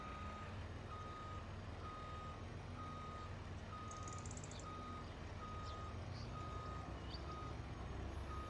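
A truck backing up to a warehouse loading dock in Farming Simulator 25 gives a steady series of evenly spaced reversing beeps over a constant low engine rumble, with no talk.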